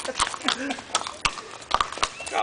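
A ridden horse's hooves clip-clop in a quick, uneven rhythm close by, with voices calling out over the hoofbeats.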